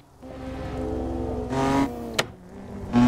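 A BMW M4 convertible with a loud 600-horsepower manual tune in a driving game, engine revving and droning up and down with a sharp crack midway and another surge at the end.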